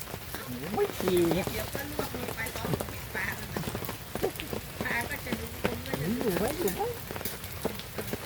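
Rain falling outdoors on a fishing trip, a continuous pattering hiss on surfaces close by, with people talking over it throughout.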